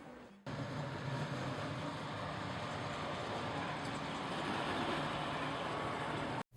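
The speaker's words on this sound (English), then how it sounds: "Obey the red or this tram will make you dead." A tram rolls along Rua Augusta in Lisbon, a steady loud rumble of wheels and motor lasting the whole stretch, starting abruptly and holding near and constant with no voices.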